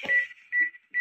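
Button beeps from a Tiger touchscreen rice cooker with a ceramic inner pot: three short electronic tones, two in quick succession and a third starting at the end, clear and close with nothing else around them.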